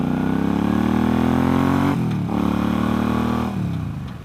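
Bobber motorcycle accelerating through traffic, loud close engine climbing in pitch, dipping briefly between gears around the middle, then revving up again.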